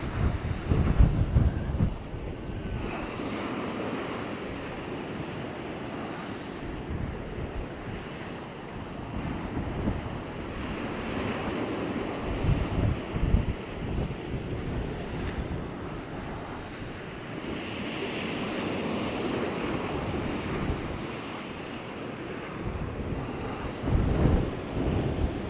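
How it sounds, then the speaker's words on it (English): Strong storm wind roars over crashing surf on the beach at Walcott, a steady loud wash of waves and gusts that buffet the microphone throughout, with no voices. "the wind is so rough"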